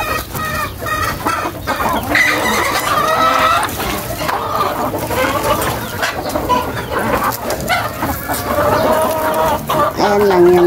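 A flock of chickens clucks busily and continuously while being fed in the morning, close by and loud, with overlapping calls throughout.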